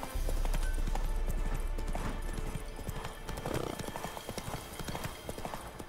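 Roach, Geralt's horse in The Witcher 3 video game, gallops with steady rapid clip-clop hoofbeats and an occasional whinny, close and loud, over in-game ambience with light talk.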